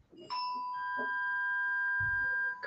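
Shop door bells ring on a Monday morning, sustained bright metallic tones that sound together and hang on steadily, fairly quiet, with a low thump partway through.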